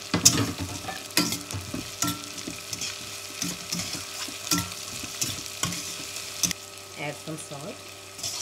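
Carrot, cabbage and green peas fry and crackle in a pan for vegetable upma, scraped and stirred in repeated strokes, close and moderately loud with no talk.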